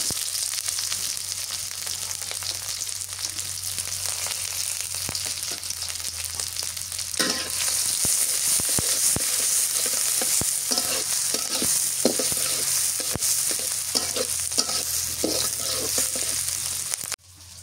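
Onions and green chillies fry in a pan with a loud, continuous sizzle, joined midway by brisk stirring and scraping strokes, close and with no talking.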